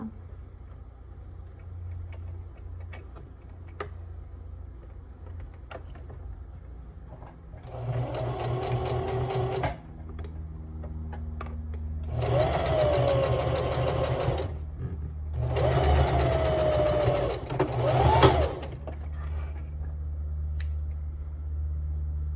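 Sewing machine running in three sustained stitching bursts as elastic is sewn onto a mesh skirt, separated by short pauses over a steady low motor hum, close and fairly loud with no talking.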